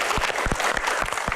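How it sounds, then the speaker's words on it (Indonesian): An audience claps through a short burst of steady, fairly loud applause at a Q&A event, with no clear voices over it. "Tepuk tangan dong."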